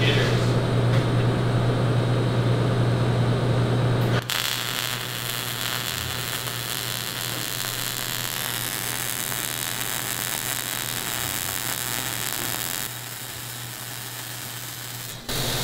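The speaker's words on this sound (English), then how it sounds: "You can weld it right to the table if you want." Arc welding lays a 4-inch bead on a metal table, a steady, close crackling hiss that carries on continuously after a brief hum at the start.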